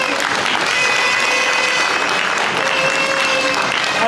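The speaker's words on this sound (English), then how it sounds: "a big round of applause" Audience at a charity's 20th anniversary celebration giving a big round of applause, dense and sustained clapping from a large crowd, loud and even throughout, with faint voices mixed in.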